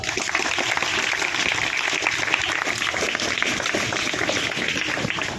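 Loud, sustained applause from a village crowd at a Kargil martyr memorial event, a continuous dense clatter of many hands that holds steady throughout with no break.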